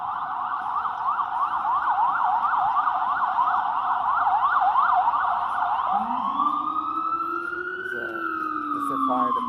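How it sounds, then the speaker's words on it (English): Fire department ambulance siren wailing loud and close, a fast rapid yelp cycling steadily before switching to a slower rising and falling wail with a deep horn-like tone beneath. "It's a fire department ambulance."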